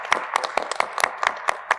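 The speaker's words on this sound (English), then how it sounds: "Let's give Bridget a great clap for that wonderful summary." A conference audience applauds a speaker named Bridget at a parallel session, producing a steady stream of overlapping claps from a modest crowd in a hall, with sharp individual hand strikes standing out at a moderate level and no talking.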